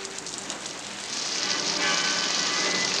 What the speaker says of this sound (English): Good night for it to go and start raining